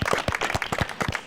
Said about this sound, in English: Miri, Istvan, can you give a little round of applause to our jury members for all the help they're going to give?